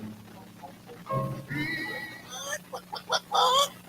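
Chicken clucking in a rapid run of short, nasal calls that grow louder toward the end, heard close over a low background hum.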